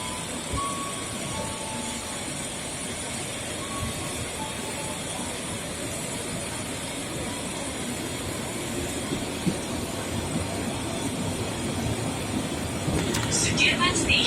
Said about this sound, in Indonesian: dan kereta melanjutkan perjalanan.